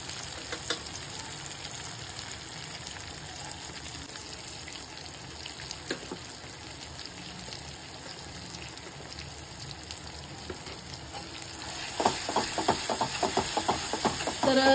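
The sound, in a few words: tomato cooking and sizzling in a pan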